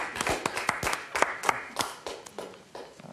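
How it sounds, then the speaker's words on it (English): A small audience gives a brief round of scattered applause, with uneven claps that start fairly lively and then thin out over a few seconds, heard at moderate distance. "Let's give him a round of applause"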